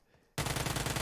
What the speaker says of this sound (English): Oh, with that Uzi, that extended mag. Let it rip.